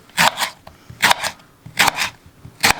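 Four quick pairs of knife chops through an unpeeled banana on a cutting board, crisp close thuds spaced evenly with short pauses between.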